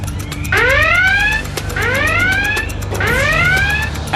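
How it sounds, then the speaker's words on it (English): High water level alarm going off, a loud electronic warbling alarm repeating three rising swoops in a regular cycle, sounding alone with no voices. "when the high water level alarm goes off"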